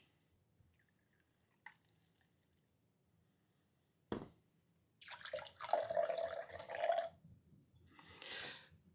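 Crown Royal Canadian whiskey, two ounces, poured into a maple whiskey sour cocktail; a short liquid stream with a few splashes and trickles, quiet and close, with no talking.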